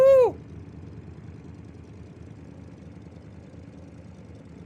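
A custom crawler car in BeamNG settles into a low, rough idle after a brief sharp burst at the start, the engine rumbling steadily and close with no talk.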